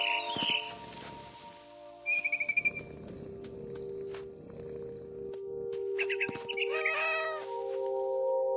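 In What Remains of Edith Finch, a cat gives a few faint meows and short mewing cries spread over several seconds, with soft rustling and a steady low hum between them.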